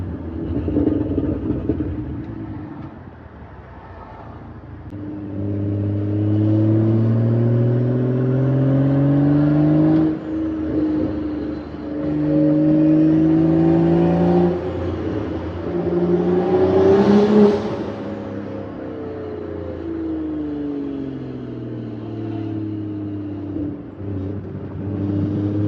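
A 2012 BMW 135i with a manual clutch pulls along a highway on-ramp, its engine droning and rising in pitch through the gears with steady road rumble, heard from inside the cabin with no talk.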